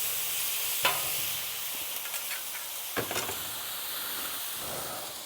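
Mushrooms, onions, yellow squash and zucchini sizzle steadily on a Blackstone griddle, a constant hiss broken by a few sharp scrapes and stirs of a spatula.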